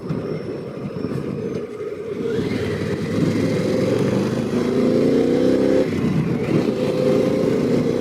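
A Harley-Davidson Pan America 1250 motorcycle without a quick shifter accelerates hard, its engine note rising through a gear, then briefly cutting as the throttle is rolled off for a shift before pulling again, loud and close.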